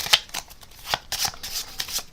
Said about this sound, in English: give the cards a good shuffle